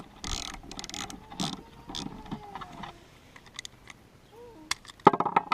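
A ratchet clicks in short quick bursts while tightening a bolt during a fuel pump install on an MK3 Supra, with scattered metallic taps and handling noises, close and fairly loud.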